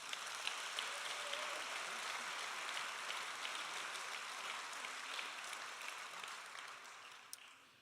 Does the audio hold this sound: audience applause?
yes